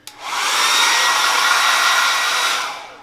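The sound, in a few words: hair dryer blowing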